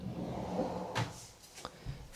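A dresser drawer slides open or shut in a built-in master bedroom dressing room. There are two short wooden knocks and scrapes over a quiet room background, with no talking.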